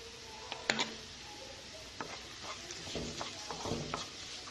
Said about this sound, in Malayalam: ഈ ഇഞ്ചിയുടെയും വെളുത്തുള്ളിയുടെയും ഒക്കെ ഒരു പച്ചമണം മാറുന്നത് വരെ ഈ ഉള്ളിയിലിട്ടൊന്ന് വഴറ്റാം കുറച്ച് സമയം